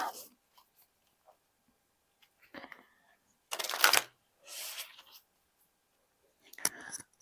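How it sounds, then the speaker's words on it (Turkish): Tarot cards being shuffled by hand in short, close, crisp bursts of riffling and sliding, separated by quiet gaps, with soft murmured speech in between. "Şöyle bir kere daha karıştıralım da."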